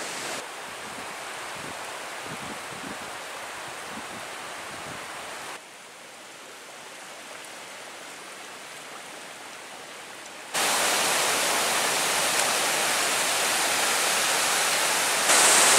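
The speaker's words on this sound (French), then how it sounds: "comme on peut le voir, le ruisseau est bien gonflé" A swollen stream rushes through a frozen winter forest in -9.4°C cold, a steady broadband roar of flowing water that shifts in loudness across three sections as the listening position changes, with no voices.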